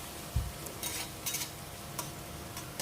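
Spice masala with sliced tomato sautés in a pan over medium-low flame, a quiet sizzle broken by several sharp spoon clinks and scrapes against the pan, with no voices.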